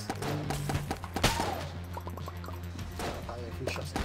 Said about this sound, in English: Fire a few shots at these guys.